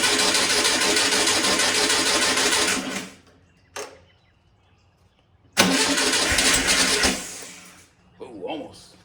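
A 1600cc VW Bug engine cranks on its first start in two loud, churning bursts of starter whir separated by a quiet gap, with a short softer rumble near the end.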